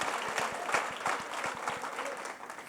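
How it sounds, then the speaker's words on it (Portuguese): Applause from a church congregation during a Sunday service, a moderate wash of clapping with distinct individual claps, steady and fairly even over a few seconds. "Eu posso pedir uma salva de palmas para o Senhor Jesus?"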